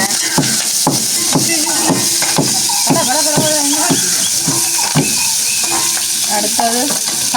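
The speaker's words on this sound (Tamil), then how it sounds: "நாங்கள் அப்படியே வெங்காயத்தை போடுவோம் ஒரு தாளிக்கு" Onions sizzle and crackle steadily in hot oil for a tempering, with a spoon stirring and scraping the pan in a loose rhythm.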